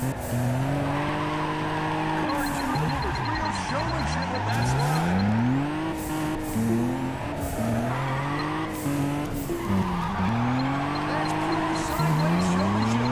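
Cars drift in the racing video game Juiced 2, including a Nissan 350Z Veilside and a Skyline R32. Engines whine and rise in pitch over and over, with tires squealing through the turns, and the sound runs loud and unbroken the whole time.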